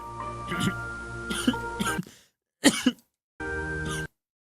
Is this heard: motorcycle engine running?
no